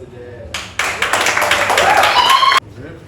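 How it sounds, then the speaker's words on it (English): Audience clapping bursts out to welcome a film director on stage at a movie event, a dense, loud round of applause lasting about two seconds before cutting off sharply. "Clap our hands as we welcome the director of the movie, who is the Santos."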